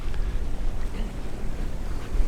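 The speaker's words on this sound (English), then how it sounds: "It is really windy out here." Strong wind buffets the microphone at an RV resort campground in the Florida Keys, a loud continuous low rumble and roar with gusty swells and no break throughout.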